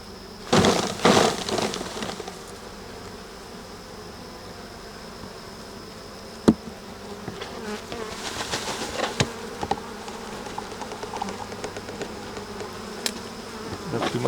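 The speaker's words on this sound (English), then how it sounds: "I'm going to shake it in my container and gather about half a cup of bees." Honey bees buzzing loudly at close range as a hive frame is shaken into a container, with sharp knocks and rattles from the frame and container over a dense, continuous hum.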